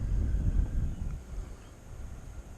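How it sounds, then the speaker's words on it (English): Low, gusty wind buffeting a microphone, a steady rumble with soft surges and no voices. "it's getting windy now."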